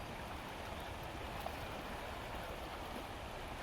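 River water rushes steadily and loudly throughout, a continuous broadband wash with no pauses and no voices, heard close at the riverside.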